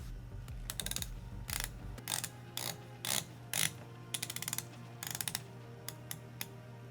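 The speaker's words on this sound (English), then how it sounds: "I think the Bulova has really good bezel action" Bulova Oceanographer GMT dive watch bezel turned by hand, giving crisp ratcheting clicks in several quick bursts with short pauses, close and clear with no talking.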